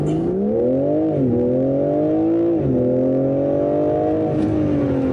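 A BMW M3 G80 accelerates hard from a standstill, launched in drive with the gearbox in its first setting. The loud engine note climbs steadily, dips briefly at two upshifts, then keeps rising, with no talking.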